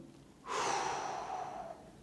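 One full, slow breath during a relaxation demonstration, a soft close airy inhale or sigh lasting over a second, quiet and alone.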